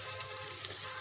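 Washed curry leaves crackle in hot oil with ginger garlic paste while a chicken fry is cooking. A faint, steady sizzle runs without pause for about a second, alone and without talk.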